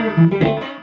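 Electric guitar plays a short pentatonic lick through an effects unit with light distortion, a few sustained, harmonically rich notes sliding in and fading over under a second, loud and up close with no talking.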